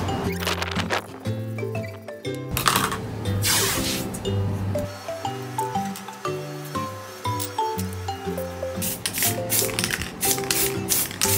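Green spray paint hisses onto an iPhone case in several short bursts over steady background music.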